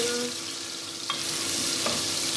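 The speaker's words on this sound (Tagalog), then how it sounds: "Now I put oil. I sauteed this garlic" Garlic sautéing in oil for Omani kabuli rice gives a dense steady sizzle, close and continuous, with a couple of faint utensil taps.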